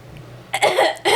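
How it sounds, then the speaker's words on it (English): A person coughs twice in quick succession, close up and fairly loud, against a quiet background. "Cough, cough, cough."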